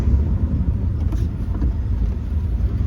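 A 1971 Oldsmobile Cutlass Supreme convertible brakes in a straight line on the road, heard from inside as a loud, steady low engine and road rumble with no voices.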